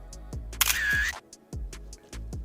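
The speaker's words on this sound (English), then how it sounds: "You know the sound that a camera makes when you take a picture?" A phone camera's shutter sound: several sharp, evenly spaced clicks repeat across the clip, with one louder, longer snapping burst near the start. The sound is close and clear, with no talking.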